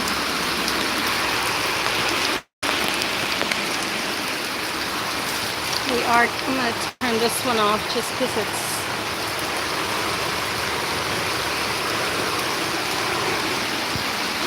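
Heavy rain pours down in a dense, continuous hiss, close and steady throughout, with a person speaking briefly partway through and two short dropouts.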